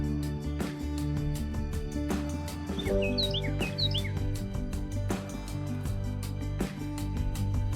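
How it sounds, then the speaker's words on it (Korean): A bird-like reservation notification chime for a downtown restaurant plays in a game, brief high chirping tweets over steady background music, moderately loud. "시내 중심가에 있는 그 레스토랑 예약 알림이야?"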